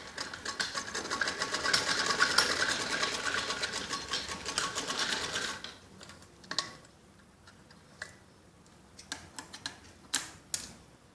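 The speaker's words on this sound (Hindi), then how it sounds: "दोनों कंधों की पाइपिंग पे ऐसे ही सिलाई लगाई जाती है" A sewing machine stitches piping on the shoulder of a child's top, running steadily for about five seconds before stopping. Scattered clicks and handling taps follow as the fabric is adjusted.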